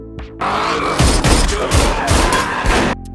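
A rapid burst of gunfire crackles loudly for a few seconds, dense overlapping shots with heavy booming impacts, from a staged gangster shootout in an action film.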